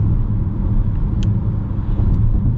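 A 2025 Mitsubishi Eclipse Cross pulls hard under heavy throttle, its engine a loud, steady low rumble from inside the cabin with road noise beneath it.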